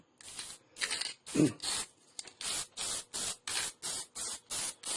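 A spray can hisses in a series of short bursts, about a dozen quick sprays in a steady rhythm, close and fairly loud.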